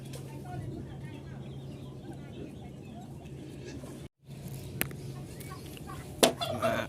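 Turkeys of breeding stock, three to four months old, clucking and gobbling in a farm pen, a steady murmur of birds with a brief break and a sharper call near the end.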